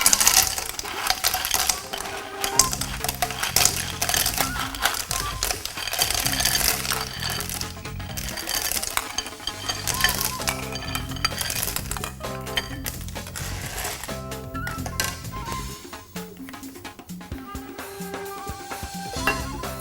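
Hard cockle shells clatter and rattle continuously into a metal wok, a dense run of sharp clicks and scrapes at close range.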